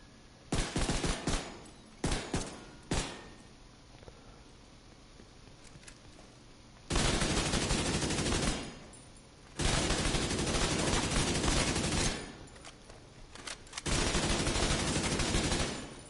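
Automatic gunfire from The Division 2 shooter video game hits an enemy in the chest, in loud sustained bursts: short volleys early on, then long continuous strings of rapid shots separated by brief pauses.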